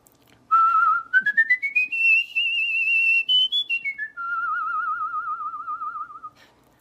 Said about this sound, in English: What's really cool is when you can whistle something really that goes really high and really low